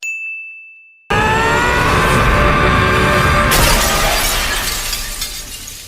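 An anime sword blade shatters: a sustained high metallic ring gives way to a loud, bright burst of glassy breaking that rings out and slowly decays.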